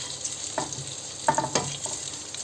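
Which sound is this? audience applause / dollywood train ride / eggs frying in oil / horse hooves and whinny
eggs frying in oil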